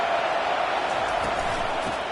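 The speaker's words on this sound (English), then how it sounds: "Decibels rising as the crowd gets behind this defense on 3rd down." Stadium crowd noise in an American football video game on a third-down defensive stand: a steady, broad roar of many fans, constant and fairly loud without distinct claps.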